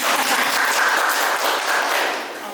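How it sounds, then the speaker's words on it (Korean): Applause from an audience at a youth art centre's artist talk, a steady wash of clapping that stays even throughout and tapers slightly at the end, with no voices above it. "박수."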